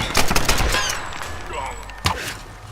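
Machine gun fire in the video game Tomb Raider, a loud, dense rattle of rapid bursts that fills the clip, with one sharper crack near the end.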